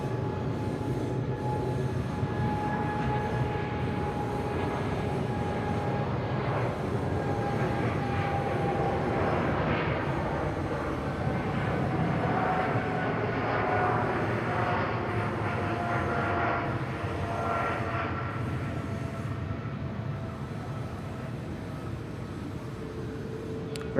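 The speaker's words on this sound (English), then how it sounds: "Very nice departure there from the EVA 777." An EVA Air Boeing 777 departs Bangkok Suvarnabhumi Airport, giving a loud, steady jet engine roar that stays sustained and fairly close throughout, with a slowly shifting whine and rumble and no talk.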